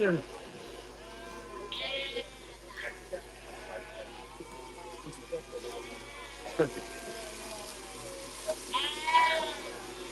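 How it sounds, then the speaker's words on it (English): Sheep bleat repeatedly at a shearing session as they head back out to the field, the calls rising over steady background noise while people talk nearby. "The sheep are going back out in the field. That'll be very noisy for a few hours."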